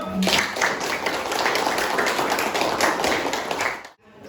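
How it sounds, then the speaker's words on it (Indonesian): A classroom of students claps together in a brisk, fairly close burst that holds steady for about four seconds, then cuts off abruptly. "Tepuk tangan dulu."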